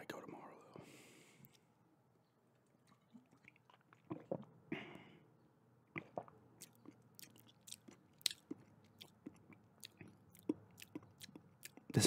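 Gum chewing close to the microphone, with moist smacks and clicks that come faster and more irregularly in the second half, under quiet whispered talk.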